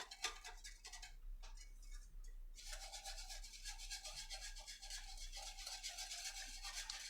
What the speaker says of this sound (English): Go ahead and whisk it and bring it to a boil.